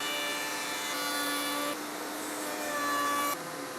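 Router table milling a bevel along a wooden transition strip, a loud steady high-pitched whine of the spinning bit with shifting cutting tone as the wood is fed through, no voices present.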